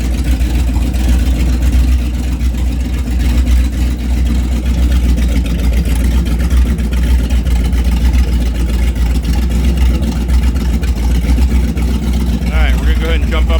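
A Mercruiser big block 454 7.4L marine engine idles steadily at close range, a dense low rumble holding constant throughout with a faint rattle and a brief higher whir near the end.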